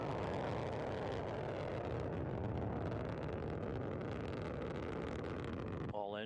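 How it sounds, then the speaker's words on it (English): A Soyuz 2.1a rocket climbing away from the Baikonur Cosmodrome, its engines giving a steady, dense, rumbling roar that holds at a constant level from start to end, with no voices over it. "The engines are at estimated flight speed, good roll, pitch, and yaw program."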